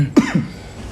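A single harsh cough, followed by a smaller throat-catching cough a moment later, close and loud against a quiet room.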